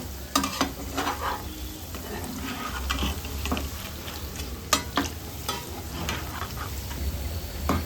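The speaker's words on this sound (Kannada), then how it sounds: "ಮೊಟ್ಟೆ ಕಬಾಬನ್ನು ಚೆನ್ನಾಗಿ ತಿರುಗಿಸಿ ಬೇಯಿಸ್ಕೊಳ್ಬೇಕು." Egg kababs sizzle and crackle as they fry in a pan, with repeated scraping and clinking strokes as they are stirred and turned, the sounds close and moderately loud over a continuous frying hiss.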